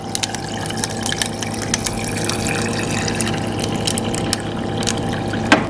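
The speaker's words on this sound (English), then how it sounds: "you're gonna wanna fill this up with water" Water poured into a plastic drink cup to fill it to the top, a steady splashing and trickling stream heard up close with a few clinks and no speech.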